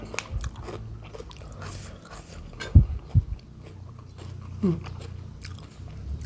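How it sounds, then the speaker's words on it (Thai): Someone chews a spicy dried-chili seafood salad eaten with crunchy pickled shallots. A few sharp, close crunching bites stand out over softer, steady mastication, with no talking. "ก็เคี้ยวแต่ข้างนี้ตอนแรก"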